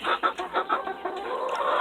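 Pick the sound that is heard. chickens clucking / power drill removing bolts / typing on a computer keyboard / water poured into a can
chickens clucking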